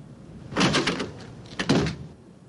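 A door opens as someone walks in without knocking. Two close, muffled bumps and rattles come about a second apart, with no talk over them.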